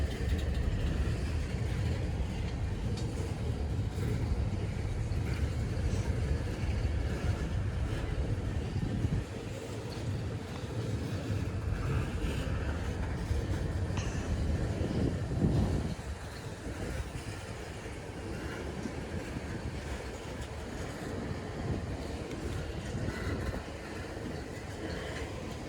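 An old freight train with old cars rolls past close by as it slows down, a steady loud rumble and rattle of wheels and cars that eases slightly toward the end.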